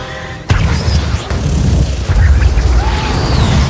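A house explodes in the film Furious 7 with a sudden loud boom, followed by a rumbling roar of debris and a second blast, the low rumble carrying on to the end.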